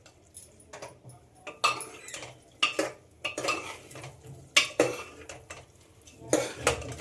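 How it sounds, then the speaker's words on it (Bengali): Marinated mushrooms being stirred with ground coriander and spices in a pan, heard as repeated scraping and clinking of a utensil against the pan in uneven bursts, with a faint sizzle between strokes and no talking. "এবার এতে ম্যারিনেট করে রাখা মাশরুমটা দিয়ে দেব, দিয়ে খুব ভালোভাবে কষিয়ে নিতে হবে মশলার সঙ্গে।"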